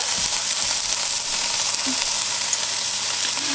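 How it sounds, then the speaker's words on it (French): A pork roast sears in a pan with a little fat, giving a constant close sizzle and frying crackle throughout, with no talking. "je suis en train de faire, comme je vous ai dit, rôtir mon rôti"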